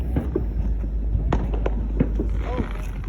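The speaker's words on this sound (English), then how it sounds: "Yeah, that's a fireworks show." Distant fireworks show, somewhere toward Slayton, heard as a few scattered faint pops and thuds over steady low rumble and background hum, with brief voices in the background.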